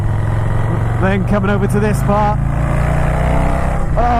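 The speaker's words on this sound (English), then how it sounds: "oh, listen to that lovely exhaust note." A Harley-Davidson Softail with a Stage 2 tune and a Vance & Hines 2-into-1 exhaust rumbles steadily and loudly throughout, its deep running note continuous while someone talks over it.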